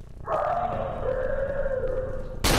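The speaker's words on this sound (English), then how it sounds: "Another dog sound you made there." A dog-like bark stretched into a sustained, tonal howl from an enemy in the horror video game Cry of Fear, loud and close for about two seconds before an abrupt noisy cut.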